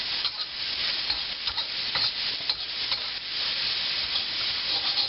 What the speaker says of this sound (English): A little more oil going in there. And onions and the celery.